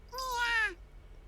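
A kitten gives a single clear, drawn-out meow lasting about half a second, close and fairly loud against a quiet background.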